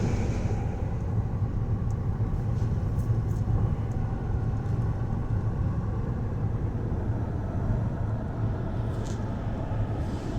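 2019 Cadillac Escalade driving, a steady low road and engine rumble heard from inside the cabin, constant throughout with faint ticks and clicks above it and no talking.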